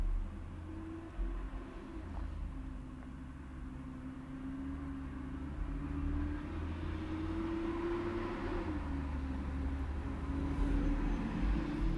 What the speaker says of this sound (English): You can hear all the trucks and buses